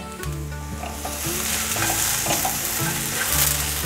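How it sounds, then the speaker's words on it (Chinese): Carrots and long beans are stir-fried with mushrooms in a pan, a loud, dense sizzle running throughout with rhythmic scraping of a utensil and a low humming tone underneath, close, no speech. "大略拌炒一下"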